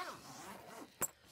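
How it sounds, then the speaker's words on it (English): A zipper on a Riccar SupraLite R10 vacuum bag is pulled quickly in one short, sharp zip at close range. It comes after a faint, quiet stretch, and nobody speaks. "you can pull the two zippers"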